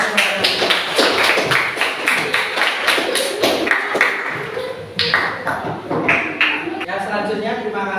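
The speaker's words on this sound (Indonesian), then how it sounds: "Tepuk tangan untuk kalian semuanya yang sudah presentasi pada hari ini." Schoolchildren in a classroom applaud presenting groups with a rhythmic, patterned clap routine, sharp synchronized claps in repeated sequences, with voices and chanting mixed in throughout.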